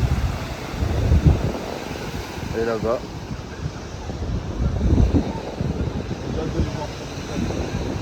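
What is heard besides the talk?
ocean waves breaking at Biarritz beach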